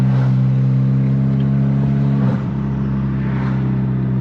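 A VW MK7 GTI with a MAP downpipe, driven in comfort mode, holds a deep, steady rumbling idle that swells into a brief rev and eases back, loud and close, with no talking.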